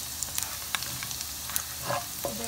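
Garlic frying in a pan, a steady close sizzle with occasional pops and the scrape of stirring, loud and continuous with no voices.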